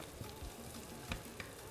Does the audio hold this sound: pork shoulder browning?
yes